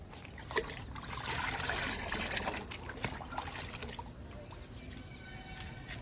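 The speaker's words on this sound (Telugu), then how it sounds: "చల్లుతున్నాను చెర్రీ మొక్కకి" Homemade fruit-peel fertilizer liquid is poured onto a potted cherry plant, a faint, soft splashing trickle that swells and then eases, heard close and quiet with no voices.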